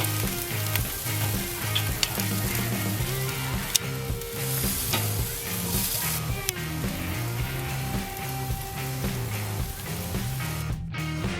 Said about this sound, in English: After a couple minutes of grilling these direct, you're just going to go ahead and give them a flip